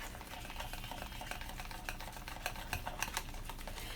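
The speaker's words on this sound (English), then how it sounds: "I'm just going to mix it here with the wire whisk and whisk it up real good." Rapid, irregular metallic clicking and tapping of a wire whisk against a bowl, beating chaffle batter at close range with no voices.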